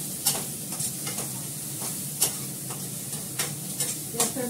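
Frying in a very hot wok, a steady dense sizzle broken by several sharp scraping stirs of a spatula, close by and without any voices.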